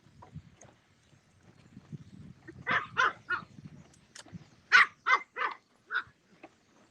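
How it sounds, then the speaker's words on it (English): An excited dog barks at another dog on a walk: low scuffling noises first, then two quick clusters of three or four sharp, loud barks close by, with a final lone bark and no talking. "And he gets crazy when he sees another dog."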